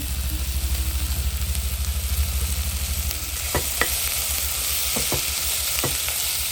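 Tomatoes and onions sizzle steadily in a pan for a homemade chicken curry, a continuous close frying hiss with a low hum underneath and occasional sharp clinks of a stirring spoon.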